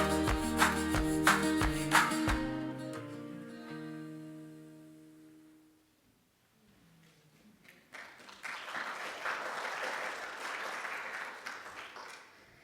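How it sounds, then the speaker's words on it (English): Applause from an audience follows the end of a sung performance, starting after the music fades and a short lull, then holding as a steady broadband clatter of many hands. "I feel guilty taking the applause."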